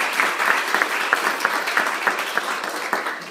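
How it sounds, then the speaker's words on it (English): An audience claps warmly after a university talk, giving a steady round of applause with individual claps popping out of the dense wash, fairly close and sustained throughout. "just like to everyone, another round of applause"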